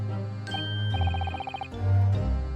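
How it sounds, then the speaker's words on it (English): A tinkling bell-like chime from The Great Ace Attorney Chronicles rings in a bright, rapid sequence of close, loud tones, with deeper low chords framing it. "That variable tinkling of a bell"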